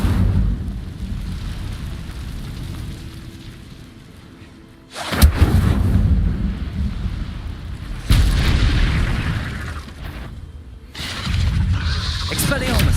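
An Incendio fire spell in Hogwarts Legacy goes off in several heavy, booming whooshes of flame, each a sudden loud burst that trails into a rumbling roar over a low, steady ambience.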